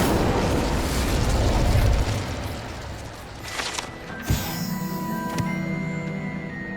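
A fire spell bursts in Hogwarts Legacy with a sudden muffled boom and crackle, followed by ringing magical tones and a low mechanical rumble.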